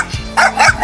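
A small dog lets out two or three quick, high yapping barks, close and loud, in short bursts with brief gaps between them.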